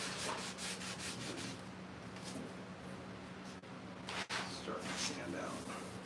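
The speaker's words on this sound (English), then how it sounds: "Starting to sand out." Steady, continuous rasping of sandpaper working over the body of a 1958 Chevy Apache truck, fairly close and even in level, with a low constant hum underneath.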